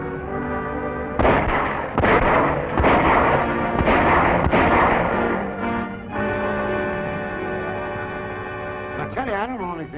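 Gunfire in a 1939 film scene as a waiting party ambushes men coming ashore at a cove, with several loud sharp bursts followed by a sustained rumbling din and voices mixed in.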